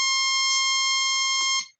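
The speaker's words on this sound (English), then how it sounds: "So yep, there's that error tone." A DSP board running slow FIR filtering emits a loud, steady electronic error tone, a single buzzing beep held for under two seconds before cutting off.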